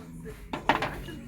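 Small ceramic macchiato cups knocked and handled on a shelf in a budget housewares shop, giving a few quick light clinks and clatters close by, with a faint murmur of a voice behind.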